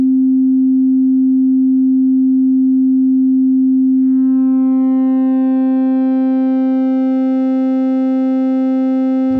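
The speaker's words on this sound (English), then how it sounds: "This distorted audio wave sounds something like this." A steady pure test tone plays, then turns buzzy and harsh partway through as distortion from a tube microphone signal is added, sustained and loud.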